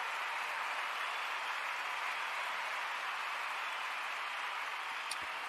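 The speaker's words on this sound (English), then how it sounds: "that deserves nothing less than thunder applause." Dense, sustained applause from a large crowd forms a steady, even wash of clapping, loud and unbroken, with a single sharp click near the end.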